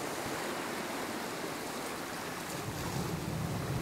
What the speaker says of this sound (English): a fairly big wave to come in. Not too big that I'm swamped, but big enough to give a good break over the rocks in front of me